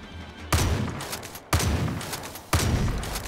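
Three loud bursts of gunfire from Far Cry 5, each a sharp crack with a brief decaying tail, spaced about a second apart with no talk over them.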